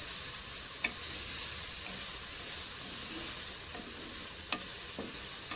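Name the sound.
chicken frying in a pan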